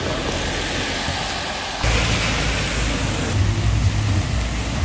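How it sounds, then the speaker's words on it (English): Heavy rain pours steadily in a city in Poland, a dense, loud hiss of falling water that thickens partway through, with no talk. "It's raining so much."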